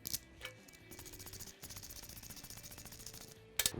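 Ratchet wrench clicking as bolts are run hand tight on a Wunderlich engine protection cover for a motorcycle, with bursts of close, rapid metallic ratcheting separated by short pauses and handling noise.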